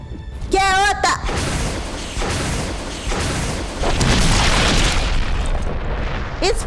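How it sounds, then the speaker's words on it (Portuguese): A loud explosion in the survival-horror game Resident Evil 1 Remastered, a sustained roaring blast lasting several seconds with a rising tone at the start and an excited voice talking over it. "Explodiu tudo!"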